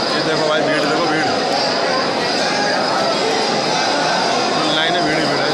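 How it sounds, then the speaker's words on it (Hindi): Dense crowd of devotees at Khatu Shyam temple, a steady wash of chatter and movement with no pauses, fairly loud and close throughout. "ये देखो भाई, भीड़ देखो, भीड़।"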